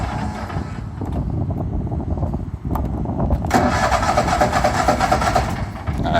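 Riding lawn mower engine cranking and then catching, the starter churn giving way to a louder, rough running engine close by.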